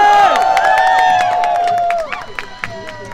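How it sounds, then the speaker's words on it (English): Crowd at a hunger-strike rally against 24-hour workdays breaks into applause and cheering, loud and dense at first, then thinning into scattered claps and voices. "Give a big round of applause."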